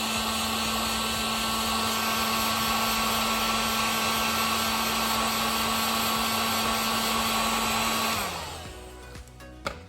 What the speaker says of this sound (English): If you want to, throw the heat gun back on it.